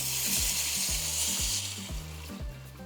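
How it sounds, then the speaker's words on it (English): Four cups of water poured into a hot pot of toasted white rice, a loud hissing sizzle and bubbling rush of liquid hitting the hot pan, continuous and close, easing slightly after a second and a half. "now at this point, I'm adding my 4 cups of water"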